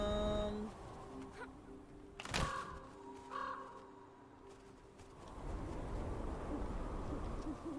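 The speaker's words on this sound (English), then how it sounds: "I hear the owl" Owl hooting in the video game Never Alone, a few soft calls over a low ambient game soundscape with music-like tones, no talk.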